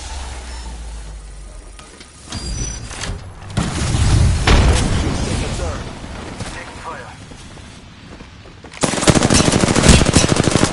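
Video game gunfire rattles in loud automatic bursts, with booming shots building around the middle and a dense, sustained volley near the end; a voice is heard during the firing.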